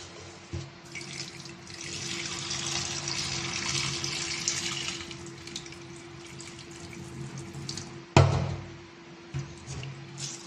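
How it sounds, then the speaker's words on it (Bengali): Rice is washed under a running tap, with a steady stream of water splashing into a vessel, a loud knock partway through, and some sloshing afterward. "চালটাকে একটু ধুয়ে নিচ্ছি ভালো করে।"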